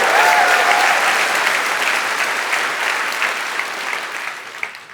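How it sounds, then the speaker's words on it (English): Sustained audience applause at a summit talk, offered in honor of SpaceX after a crewed launch, loud and dense at first then gradually thinning and fading over five seconds, with a faint voice briefly audible near the start. "Maybe a quick round of applause for SpaceX."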